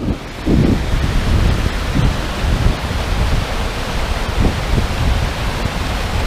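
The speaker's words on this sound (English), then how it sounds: "sound of the river." Rushing river water near a wild camp produces a loud, dense, continuous roar with buffeting gusts, close to the microphone and with no talk.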